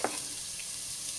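Garlic hits hot butter in a pan for creamy sopas, a steady hissing sizzle close by with a small splash at the start and no talk.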